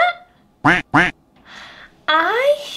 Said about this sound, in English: What sound does a duck make? Quack, quack.